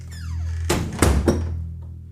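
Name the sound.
heavy front door of a house closing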